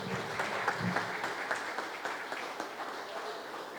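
Applause from a congregation during a Sunday morning family church service: steady, fairly faint clapping continues throughout.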